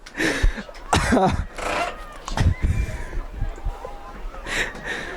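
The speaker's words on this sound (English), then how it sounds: "Excuse my coughing fit." A run of harsh coughs and throat-clearing bursts, close and loud, mixed with talking voices at a girls' powder puff football game.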